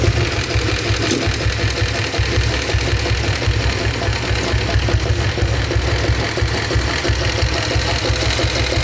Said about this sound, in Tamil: ஸோ இந்த வண்டி இப்போ ஸ்டார்ட் பண்ணி காட்டுறேன்